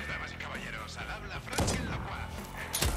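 Gunshots ring out in the video game Deathloop, two sharp loud bursts about a second apart over a busy game soundscape, with someone talking throughout.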